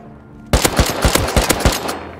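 Automatic gunfire in the video game Rust: a sudden close burst of about seven rapid, loud shots after a quiet start, then fading back to low background.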